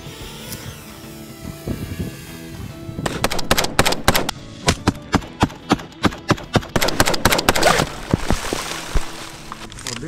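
Rapid gunfire from an anti-drone gun during a simulated drone attack drill, a long series of sharp, loud shots in quick succession after a quieter start, some spaced and some bunched together.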